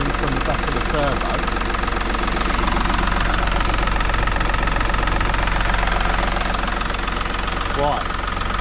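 A Seat Ibiza 6J engine idles with a steady, knocking mechanical clatter from the back of the turbo, loud and continuous throughout, with a person briefly talking over it.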